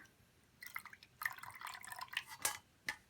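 Water is poured into two eggs in a bowl while making yellow noodle dough, producing faint close splashing and dripping sounds in short bursts over a quiet background.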